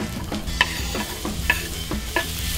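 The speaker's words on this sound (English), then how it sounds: "I'm just going to let the onions really cook down" Chopped onions sizzle and fry in a pan, with a steady crackle and occasional scraping stir strokes, close and clear, no talking.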